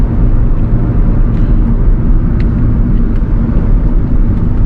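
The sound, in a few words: Hyundai Verna 1.6 SX car engine during test drive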